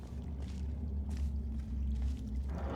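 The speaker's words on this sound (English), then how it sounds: "Water put out fire event." Water dousing a fire in a video game test-chamber level, a steady low rumbling, pouring wash with soft splashy surges that swell midway and again near the end, continuous and fairly subdued.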